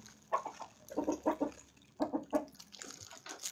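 Several backyard chickens cluck in short bursts near the listener, with quieter ambient noise between calls.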